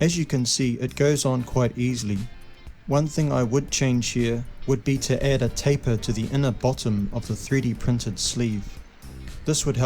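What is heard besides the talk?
No everyday noise stands out behind the speech.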